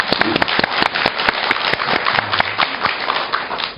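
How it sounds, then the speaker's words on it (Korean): Studio audience applause on a talk show: a dense patter of many hands clapping at once, steady and fairly loud for about four seconds, with no voices over it. "우리 한번 박수 한번 드릴까요?"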